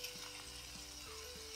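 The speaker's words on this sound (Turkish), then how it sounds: "Şimdi salçamı kavuruyorum." Tomato and pepper paste fries with a spoonful of butter in a pan, giving a low, steady sizzle with faint stirring, quiet and continuous.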